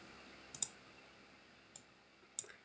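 Computer mouse clicks during setup of a Rust game server on Windows: three faint, sharp clicks spaced irregularly, with two close together near the start, then one alone, then another later, against a quiet background with no talking.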